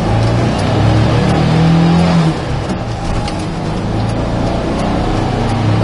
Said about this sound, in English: Solid, good sounding motor.